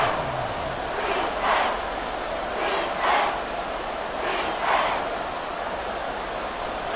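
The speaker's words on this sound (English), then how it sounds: "Crowd on their feet." A stadium crowd in an EA Sports football video game roars, a steady wash of distant cheering that swells in three rhythmic surges, carried on a broad crowd noise with no voices standing out.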